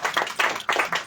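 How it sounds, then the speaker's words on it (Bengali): An audience at a film festival award ceremony in a cinema hall claps in a brief burst of uneven, rhythmic hand claps, fairly close and with no other sound. "একবার আমি অয়নদা এবং অনুপদার জন্য একটা বড় করে হাততালি চাই"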